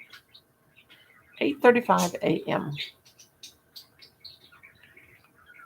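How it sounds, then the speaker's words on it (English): Pet birds indoors on a morning give small, high, scattered chirps throughout, faint in the background, while a person talks briefly in the middle. "And my birdies are chirping away."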